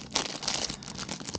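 Close, crackly crinkling of a cheap plastic bag holding a Kershaw Shuffle 2 knife, a rapid run of sharp rustles with no talk.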